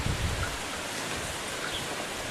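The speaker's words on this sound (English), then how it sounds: "So we got a super windy day." Strong wind on a very windy day in a backyard, a steady broadband roar buffeting throughout without pause or voices.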